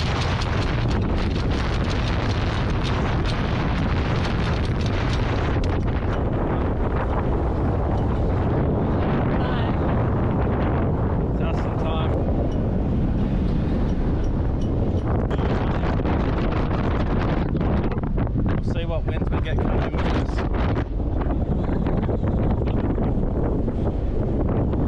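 Strong wind buffets a sailboat at sea as two squalls approach, a loud, continuous broadband roar of gusts striking the microphone, with no voices throughout.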